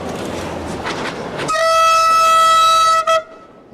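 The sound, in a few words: Portuguese diesel locomotive 1204 train departing Évora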